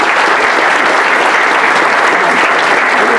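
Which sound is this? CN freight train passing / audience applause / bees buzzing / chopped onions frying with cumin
audience applause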